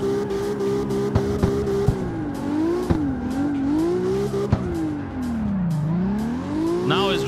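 A 2JZ-swapped car drifting in the video game CarX Street: a loud, steady engine drone swooping up and down in pitch as revs rise and fall, with tire squeal and occasional sharp clicks, close and continuous.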